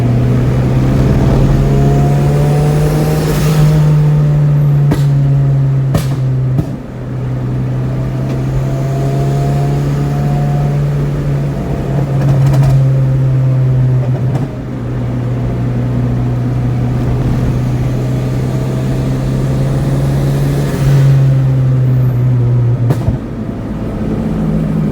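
A turbocharged manual Honda Prelude cruises in third gear near Thompson Speedway, with a steady loud engine drone and road rumble from inside the cabin, the pitch rising and dipping slightly a few times, no talk.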